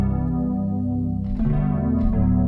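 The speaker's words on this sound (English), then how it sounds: "this a preset inside Analog Lab 5 called Nostalgia" A rich, warm synth pad from the Nostalgia preset in Analog Lab 5, played an octave lower: sustained chords with a chorus-like shimmer and a dense low end, loud and steady, with a brighter swell near the middle and toward the end.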